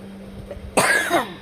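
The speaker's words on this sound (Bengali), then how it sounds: "প্রচণ্ড কাশি হয়েছে" A single harsh, loud cough bursts out after a quiet moment, with a raspy tail that trails off.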